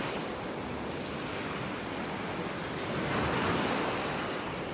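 Ocean waves washing onto a beach in North Naples, Florida, a dense, continuous rushing surf that swells slightly louder partway through, with some wind on the microphone.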